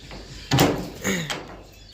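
The latch bolt on a pigeon coop door is worked by hand, giving two or three short metallic clacks and scrapes, close and distinct.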